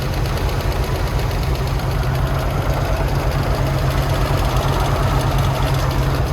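GAZon truck engine idling steadily while overheating and smoking oil, a continuous loud low rumble with a slight knocking pulse, close and constant throughout with no speech.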